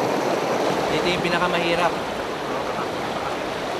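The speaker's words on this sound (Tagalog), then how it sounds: "So hindi lang bato mga kalaban mo rito, pero yung agos ng tubig. Lakas, oh." A strong river current pours over rocks in a constant rushing wash, while someone speaks over it for the first couple of seconds before the water carries on alone.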